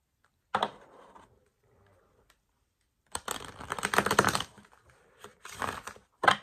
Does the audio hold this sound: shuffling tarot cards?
yes